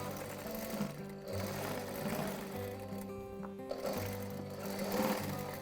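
Sewing machine stitching a fabric cushion with a frilled edge, running in steady motorized bursts with brief pauses between runs, close and fairly loud with no talking.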